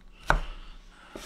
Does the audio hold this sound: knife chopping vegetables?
yes